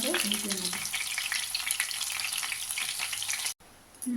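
Lote fish chops frying in hot oil, a steady close sizzle with stirring, broken by a brief gap near the end before the crackle resumes.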